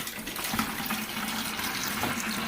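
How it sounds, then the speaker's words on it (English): Aquarium water from a betta tank drains through a siphon tube into a bucket, a steady close trickle and splash running without pause. "as I squeeze it, the water will start going down into my bucket"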